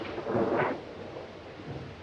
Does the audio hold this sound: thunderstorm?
yes